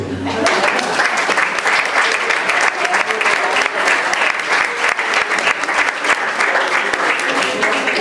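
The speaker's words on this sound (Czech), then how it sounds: "my bychom prosili potlesk" Wedding guests applaud after a speech, loud close clapping that stays dense and even throughout, with a few voices mixed faintly underneath.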